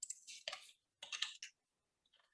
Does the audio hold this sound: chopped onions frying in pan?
no